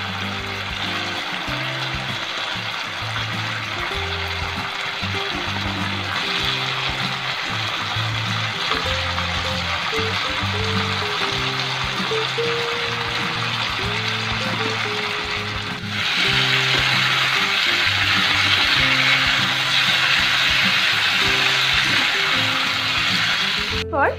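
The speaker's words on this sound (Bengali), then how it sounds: "এরপর ভেজে নেওয়া মাংসের পিসগুলো দিয়ে দিচ্ছি।" Fried chicken pieces go into a hot pan of oil for chilli chicken, setting off a steady close sizzle and crackle that swells louder partway through as they settle and are stirred.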